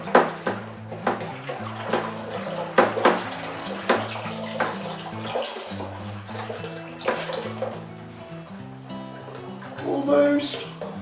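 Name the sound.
stirring grape concentrate into water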